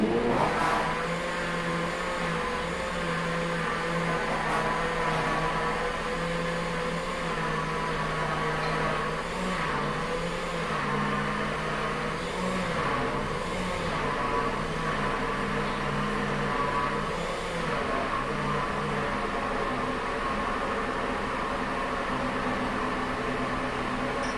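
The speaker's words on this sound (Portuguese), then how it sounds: "com o liquidificador ligado, eu vou adicionando a farinha aos poucos" Blender running steadily while flour is gradually added to red velvet cake batter, a continuous motor whir with a shifting pitch and small wobbles as the load changes, no talking.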